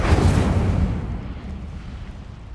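A fiery burst from the Incendio spell in Hogwarts Legacy, a loud whooshing blast at the start that rumbles and fades into a crackling tail.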